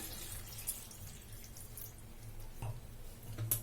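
Soft, steady trickle of a little water running into a pan of greens with green chillies, fairly quiet with a few faint clinks, no voices.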